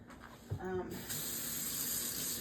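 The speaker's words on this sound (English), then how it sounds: "And I'm just gonna fill up these with cold water." Cold tap water runs into containers, a steady close hiss and splash that takes over after a short clink and a brief tonal ring at the start.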